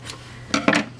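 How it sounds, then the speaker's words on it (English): Scissors cut through crochet yarn, making two quick, close snips about a beat apart and then a faint click in a quiet room. "cut our yarn"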